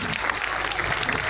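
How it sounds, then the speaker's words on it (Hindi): A village crowd at a school Independence Day event bursts into dense, steady applause for the village head, a brief continuous patter of many hands without pause. "एक बार जोरदार तालियां।"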